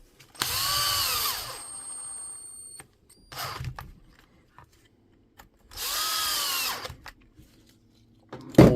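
A power driver runs screws into a DeWalt DCH273 rotary hammer housing in two long whirring bursts, separated by short clicks and quiet handling.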